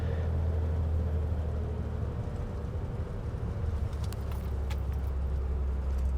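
Twin-engine Piper Seneca airplane taxiing off runway 19 after landing at Ronneby, Sweden, its engines giving a steady, loud low drone throughout, with a few faint clicks and rattles on top.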